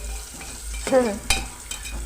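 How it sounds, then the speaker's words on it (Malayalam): Carrots and other vegetables are stirred in a hot pan, giving a soft background sizzle broken by a few short, sharp scrapes of the spoon against the pan. "അപ്പോൾ ക്യാരറ്റ് എല്ലാം ഇട്ട് ഒന്ന് ഇളക്കാം"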